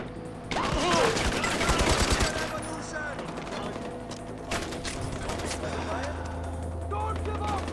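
Rapid bursts of video game gunfire from Far Cry 4 crackle loudly at the start, then thin into scattered shots over a low droning tone, with voices talking throughout.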